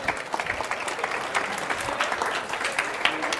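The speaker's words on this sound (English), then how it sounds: "So give her a round of applause, everyone." An audience applauds steadily after being asked to give a round of applause for a team member receiving a gift, a dense continuous clatter of clapping at moderate level with no talk.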